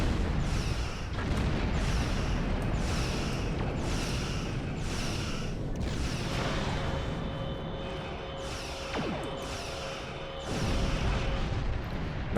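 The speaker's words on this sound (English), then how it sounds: "Fire torpedoes." Starship torpedo fire and explosions in the space combat game Star Trek Online, a dense run of loud rumbling booms and bursts roughly every second, with a sustained tone swelling midway and heavier blasts returning near the end.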